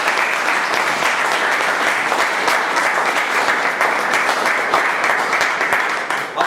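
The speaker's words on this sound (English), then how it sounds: "Let us give the Sergeant-at-Arms Mahavir, Toastmaster Prakash, Sahil, and Toastmaster Bhavna a big round of applause" Audience at a Toastmasters meeting applauding the meeting officers, with dense, sustained clapping from a roomful of people that stays loud and even throughout before tapering slightly at the end.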